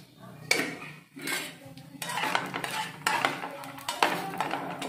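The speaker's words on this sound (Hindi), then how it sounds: "ये देखिए, हमारा नारियल अच्छे से भुन रहा है।" Grated coconut roasts in a little oil in a cooking pan, with a utensil scraping and stirring it in repeated, uneven strokes and a faint, quiet background.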